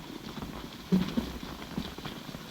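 A bunch of saddle horses moves up a draw at night in an old Western, their hooves clip-clopping faintly and irregularly at a distance under a quiet background.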